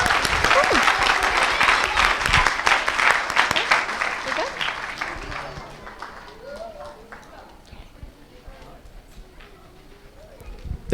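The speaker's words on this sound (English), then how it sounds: "let's give a round of applause to all our participants." Indoor applause from an audience at a children's Republic Day cultural program in a Hindu temple hall, loud dense clapping for the first half that thins into scattered claps and murmuring voices, then fades.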